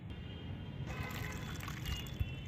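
Water soaked overnight with garlic peels and tea leaves pours through a strainer in a soft, steady trickle, close and quiet, with no speech.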